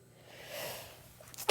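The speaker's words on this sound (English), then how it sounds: "I'm going to sneeze, I'm sorry." A single sharp sneeze bursts out at the very end after a brief quiet inhale, close and loud, with a voice otherwise silent.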